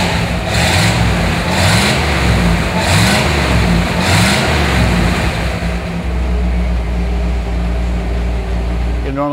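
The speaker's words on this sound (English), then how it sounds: "listen to the rumble out back a little bit" A 1957 Chevrolet Bel Air convertible's V8 revs in several loud, rhythmic bursts, then settles into a steady, deep exhaust rumble at idle, heard close from behind the car.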